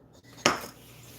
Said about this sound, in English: We're going to just give this a good mix.